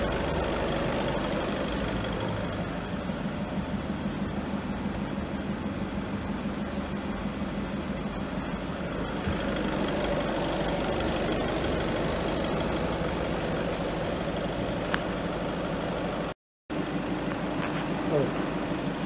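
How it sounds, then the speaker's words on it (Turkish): A 2015 Volkswagen Passat idles steadily during an air-conditioning gas refill, a constant close engine drone that runs alone nearly throughout with one brief cut near the end. "Şu an aracımız çalışıyor"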